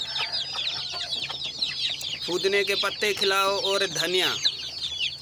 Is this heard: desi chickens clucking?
yes